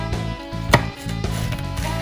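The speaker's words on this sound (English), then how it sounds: "we'll just cut the stems off. We're gonna slice these open." A knife chops through fresh hatch chilies on a cutting board, giving a few sharp, close cuts, one standing out louder than the rest, against a quiet kitchen background with no talking.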